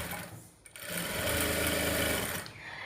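A sewing machine stitches along blouse lining fabric in a fast, continuous mechanical whir, loud and close, with a brief pause near the start before the motor runs steadily again.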